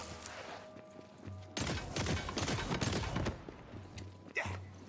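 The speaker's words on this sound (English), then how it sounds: "Wait, it's a crossbolt that blows up?" An exploding crossbow bolt gun fires in Tiny Tina's Wonderlands, a few loud bursts of shots and blasts following a quieter stretch, with a final sharp report near the end.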